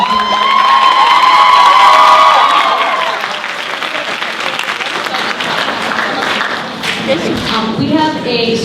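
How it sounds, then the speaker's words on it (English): School poetry competition audience applauding the judges, loud clapping mixed with cheers, whoops and shouting young voices, strongest at first and then settling into steady applause with some talk underneath. "Let's give another round of applause for all of our judges."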